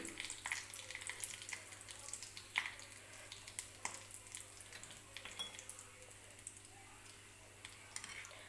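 Chili powder, asafoetida and turmeric frying for a coconut-tomato chutney, a faint, steady sizzle dotted with small spoon taps and crackles, quiet and close.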